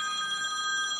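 A telephone rings with a bright, steady electronic trill that holds a high pitch and is fairly loud against a quiet room.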